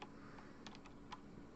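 Computer keyboard keys tapped in a few quick, light clicks, with a faint steady background hum and no speech.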